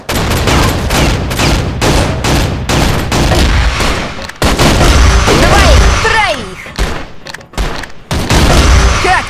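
Gunfire and a grenade blast in the shooter CrossFire: rapid loud shotgun and rifle reports in quick bursts, then a heavy boom with debris, while voices shout over the fighting.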